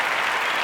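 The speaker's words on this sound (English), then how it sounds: "Orion is waving his arms, getting the crowd to cheer for him." A crowd claps and cheers steadily, a dense, continuous wash of applause that sounds fairly close and stays even throughout.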